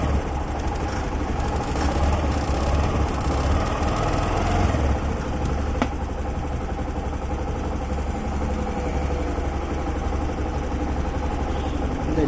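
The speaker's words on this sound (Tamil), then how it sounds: "இந்த ஒயரிங் கிட்டில் அழுத்தினோம்னா வண்டி ரேஸ் ஆகுது." A Honda Activa 6G scooter with a wiring fault runs steadily and loudly nearby, its engine drone holding an even idle-like level throughout with no clear rev peaks.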